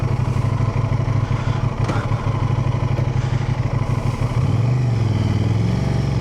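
A 2025 Aprilia RS660 Factory sport motorcycle is ridden, its engine droning loud and close with a steady mid-pitched tone and a slight shift in revs near the end.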